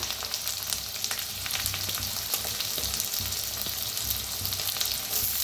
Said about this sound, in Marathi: कांदा बी भाजून घेऊया